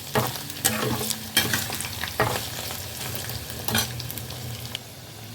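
Grated fresh coconut frying with potatoes in a pan for pumpkin chhakka, a loud continuous sizzle broken by repeated scraping strokes of a spatula stirring the mixture.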